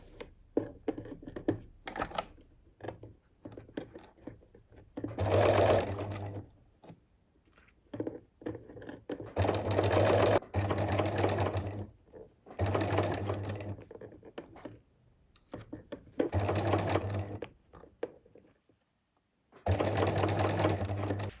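A sewing machine bastes a silk dress seam in several separate runs of a few seconds each, a close rhythmic whir broken by pauses filled with fabric handling.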